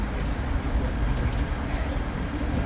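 Bronx Zoo Wild Asia monorail train riding along its track, a steady loud low rumble and rolling hum that holds evenly throughout, with no voices heard.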